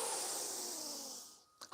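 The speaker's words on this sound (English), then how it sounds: "Strong exhale." One long, strong exhale pushed out through the mouth during yoga breathing, a steady airy rush that fades out before a short sharp sound at the end.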